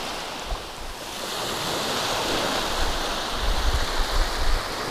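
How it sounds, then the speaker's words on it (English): Surf rolls onto Orient Bay beach in St. Maarten, a steady wash of breaking waves with wind noise, a few heavier surges toward the end, and no voices. "It's a nice beach."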